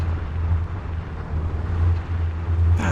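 A Hummer launching in the video game Arma 3, its engine a steady, loud low rumble that holds throughout and swells slightly toward the end.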